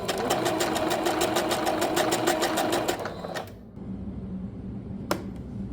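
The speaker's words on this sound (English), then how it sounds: "I'm just gonna go ahead and sew." A sewing machine stitches fabric with burgundy thread in a fast, steady run of needle strokes for about three seconds, then stops, leaving quiet room noise and one sharp click.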